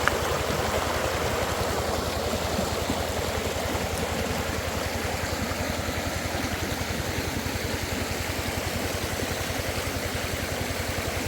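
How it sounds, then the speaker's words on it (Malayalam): A forest stream flows steadily and continuously at close range, a broad even rush of water mixed with a low rhythmic throb, with no voices. "അരുവിയുടെ സൗണ്ട് നല്ല രസമില്ലേ?"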